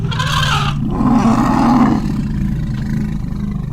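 Elephants bellowing as calves circle a mating pair, a loud, deep roaring call rising and holding for a couple of seconds over a low rumbling background, fairly close and with no talk.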